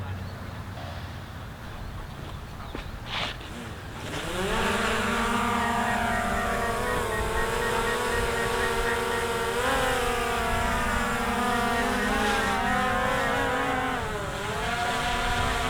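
A DJI Mavic Air 2 drone is outdoors near its landing pad. The rotors spin up from near silence into a loud, steady high-pitched whine, which keeps rising and dipping in pitch as the drone lifts off and flies.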